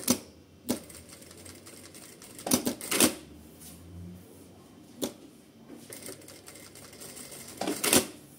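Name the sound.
electronic sewing machine stitching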